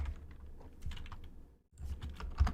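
Rapid keyboard typing clatters up close, a steady flurry of key clicks with a brief pause before resuming.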